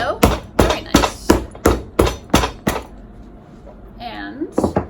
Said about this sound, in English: And I'll hammer it.